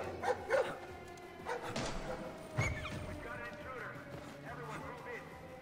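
A guard dog in Splinter Cell Blacklist's detention facility barks several times in short bursts at mid distance, mixed with game voices and background ambience.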